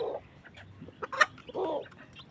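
A mother hen clucks in a few short bursts near newly hatched chicks on a farm. The calls are close and fairly clear, with faint background noise between them.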